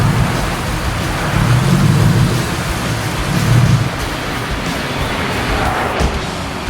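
A supercharged 4.2-litre Jaguar engine runs nearby as a loud, steady broadband rumble with a hissy edge that swells slightly a few times and carries on without a clear stop.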